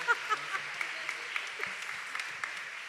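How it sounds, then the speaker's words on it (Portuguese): A youth church group claps along in a fairly faint, scattered applause with a few sharper claps near the start, heard from a distance in a room. "Aplauda bem forte você."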